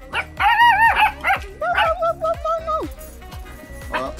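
A puppy barks and yips on a rural property in Westmoreland, Jamaica, a quick run of high, close barks followed by a drawn-out whine, with a person talking nearby.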